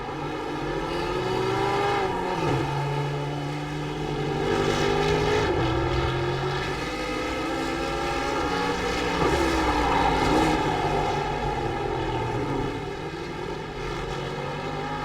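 A Kia race car in the iRacing video game at Daytona drones loudly and continuously, its engine note rising and falling slightly over a steady roar, close and without speech.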